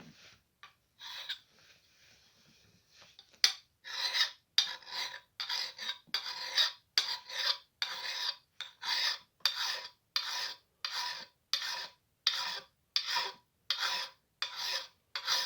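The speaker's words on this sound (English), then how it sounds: "get the paint filed off that bevel, and get it to a little broader cutting edge" Steady, evenly spaced rasping strokes of a hand file working the painted bevel of an axe to sharpen its cutting edge, close and loud, about one stroke per half second after a few quieter, slower passes at the start.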